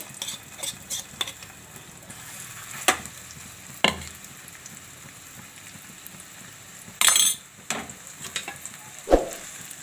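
Puran filling is stirred in hot ghee in a pan, a soft steady sizzle with a spoon scraping and clinking against the metal now and then, close and without talk.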